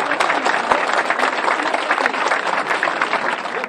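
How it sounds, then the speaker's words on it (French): A crowd at the inauguration of a sports centre claps loudly and continuously, a thick close-up wash of hand claps with a few sharp individual claps standing out and no speech. "On peut l'applaudir très fort."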